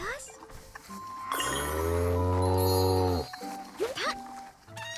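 A cow moos in the farming game Story of Seasons: Grand Bazaar, one long, loud, low moo that swells and then cuts off, with game chimes before and after it.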